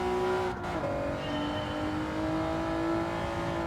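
Race car engine in Gran Turismo 7 holding a steady high drone that dips briefly as the driver brakes into a corner, then climbs again, loud and continuous with no talk.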